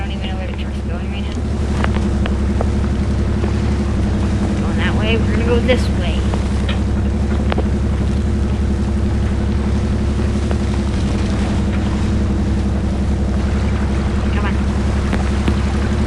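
A truck in the off-road game Spintires MudRunner churns through a river, its steady low engine drone running throughout with water rushing around it. A voice speaks briefly near the start.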